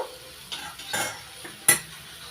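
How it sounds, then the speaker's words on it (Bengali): Strained jaggery syrup is stirred into a plum pickle mixture in a pan, making a few soft scrapes and swishes, then one sharper clack of the spoon against the vessel. "ছেঁকে নেওয়া গুড়ের রস নাড়াচাড়া করে ভালো করে মিশিয়ে নিচ্ছি"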